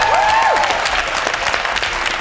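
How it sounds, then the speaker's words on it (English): Audience applause in a studio at the close of a South African television programme about tourism, a steady burst of clapping heard alone for a couple of seconds, with a brief rising electronic tone over the start. "a warm round of applause to you as well as our audience members"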